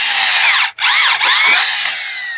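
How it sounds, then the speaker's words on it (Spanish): A homemade conical drill bit bores into metal with a loud, close, high-pitched whine, dropping out briefly twice as the cut catches and then resuming steadily. "Volvemos otra vez a aplicar la broca cónica"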